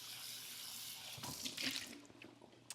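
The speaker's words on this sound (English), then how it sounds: "I'm just gonna rinse the container that I had them in," Tap water runs into a sink while a container that held cooked garbanzo beans is rinsed, a steady splashing stream that swells and sloshes briefly near the end, close by with no talk.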